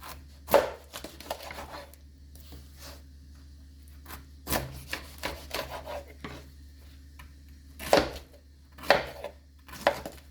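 Several sharp knife chops through pineapple on a board, irregularly spaced with a few quick bursts, close and fairly loud against a low steady hum.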